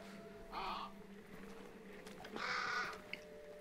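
Crows cawing in the Hunt Showdown game world, two clear bursts of harsh calls about a second apart over a low ambient hum, with the birds taking flight.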